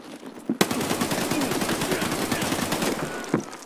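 Rapid automatic gunfire in Escape From Tarkov, a loud sustained burst of close shots rattling for about three seconds, with a single sharp report before and after.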